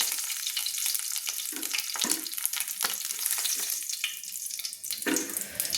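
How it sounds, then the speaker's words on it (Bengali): Duck eggs frying in oil in a pan, a steady close sizzle and crackle with bursts of spattering throughout, loud and continuous with no talking. "বন্ধুরা দেখুন আমার ডিমগুলো কিন্তু ভেজে নিয়েছি একটু তেলের মধ্যে।"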